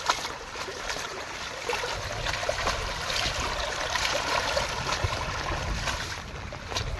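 Flood water flowing strongly into a pond, a continuous, even rushing and churning wash that holds steady and fairly loud with no voices over it.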